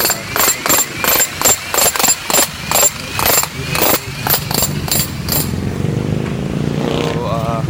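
Vehicle engines idle and rev on a street in the Philippines amid a flurry of rhythmic engine-like pulses; several bursts repeat quickly before settling into a steady, louder rumble, with people talking nearby.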